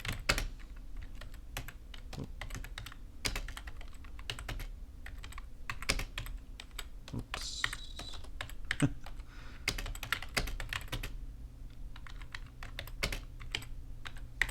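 Steady typing on a computer keyboard while lettering comics in Illustrator, with quick irregular key clicks and occasional heavier strokes running continuously with no talk.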